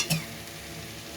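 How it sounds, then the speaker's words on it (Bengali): Spice paste with turmeric and a splash of water is stirred in a hot pan for an egg curry. A spoon scrapes once near the start, then a low, steady sizzle carries on alone. "মশলাটাকে এবার খুব ভালোভাবে কষিয়ে নেব।"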